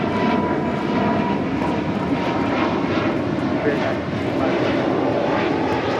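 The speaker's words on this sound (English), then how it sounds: "This is Spirit Airlines Flight 965 departing to Detroit on an A320neo" A Spirit Airlines Airbus A320neo departs LAX, its engines giving a loud, sustained roar. A voice talks over the noise partway through.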